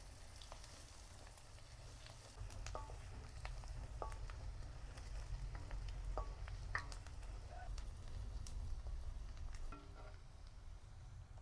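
Onions with ginger garlic paste and spices sautéing in a pan for Gujarati cauliflower-potato shaak, a soft steady sizzle with occasional light clicks of stirring, fairly faint.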